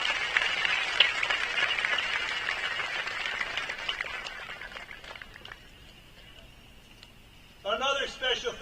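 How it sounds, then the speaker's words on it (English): Applause honors the class of 2024 at Roy C. Ketcham Senior High School's graduation: a burst of many hands clapping that gradually fades away, followed by a speaking voice. "How about giving them a nice round of applause?"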